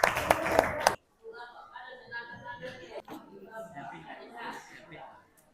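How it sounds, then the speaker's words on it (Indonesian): A classroom audience claps after a group presentation, a short burst of applause at the start, then chatter and talking voices follow. "Oke, kita kasih tepuk tangan yuk."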